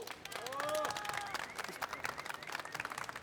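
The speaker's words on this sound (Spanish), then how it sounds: "Un gran aplauso a Patricia." Scattered clapping rises from a conference audience after a motivational talk, with a cheer or whoop early on, the applause continuing steadily amid crowd noise.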